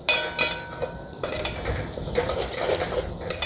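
Masala with goat neck pieces cooking for korma, soft sizzling under repeated scrapes and clinks of a spoon against the pot, close and uneven.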